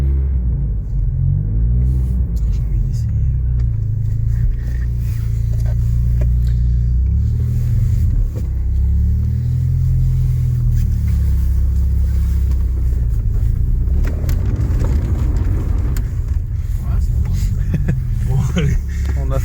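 A BMW 318is E36 car accelerates while turning left, its engine rumbling low and loud from inside the cabin with repeated rising revs and gear changes, and people talking in French over it.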